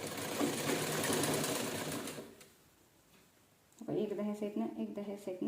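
A sewing machine stitches fabric strips for a doormat with a loud, close, rapid whirr. It runs for about two seconds, falls quiet, then someone speaks.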